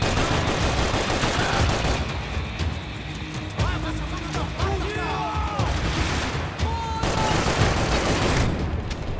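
Gunfire in the shooter game Max Payne 3: dense, continuous bursts of shots and combat noise fill the whole stretch, with a commentator's voice talking over the action.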